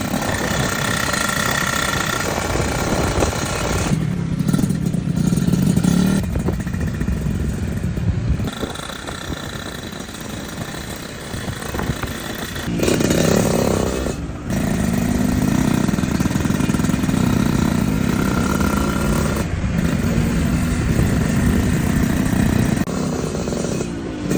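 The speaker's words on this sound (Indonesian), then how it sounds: "Silakan dinikmati untuk test drive motor ini." A restored and modified Suzuki Satria Hiu motorcycle runs loud and close. Its engine drones and revs with throttle surges and brief drops, and a ratcheting mechanical rattle runs throughout.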